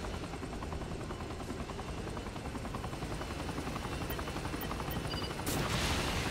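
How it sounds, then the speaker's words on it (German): Helicopter in the video game Saints Row The Third, a steady rotor drone that holds loud and even throughout, swelling slightly toward the end with a burst of game noise. "Oh my god, they've got a Helikopter."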